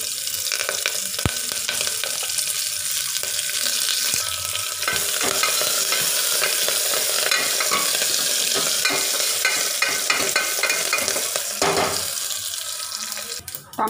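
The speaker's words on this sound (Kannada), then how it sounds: "ಚೆನ್ನಾಗಿ ಜಜ್ಜಿರೋ ಬೆಳ್ಳುಳ್ಳಿ ಮತ್ತು ಮೆಣಸಿನಕಾಯಿ ಮತ್ತು ಕರಿಬೇವಿನ ಸೊಪ್ಪನ್ನು ಹಾಕ್ತಾ ಇದ್ದೀನಿ." Cumin, crushed garlic, chilli and curry leaves frying in hot oil in a pan, a loud steady sizzle and crackle with occasional stirring clatter throughout.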